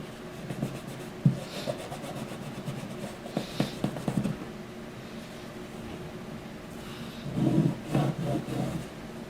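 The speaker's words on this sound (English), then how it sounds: "Come in with your rag now and clean this up a little bit." Cloth rag rubbing and wiping around the long saddle of a Martin acoustic guitar, soft scratchy strokes in short bursts with pauses, close and quiet.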